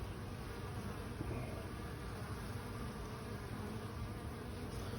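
A steady, dense buzz of many bees flying close by, continuous and even throughout with no voices.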